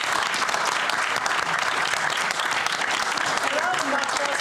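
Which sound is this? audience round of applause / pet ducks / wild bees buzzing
audience round of applause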